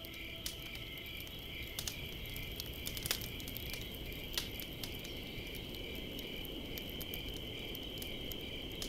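Crickets chirp steadily in a quiet night setting, a continuous high trilling band with scattered sharper clicks, moderately near and alone without voices.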